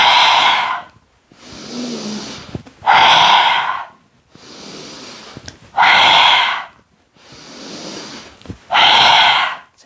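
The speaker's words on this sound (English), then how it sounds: "So it looks a little like this, an inhale and an exhale" Slow, deep breaths repeat during a yoga stretch: three cycles of a soft, long inhale followed by a louder, airy exhale, close and with no talking.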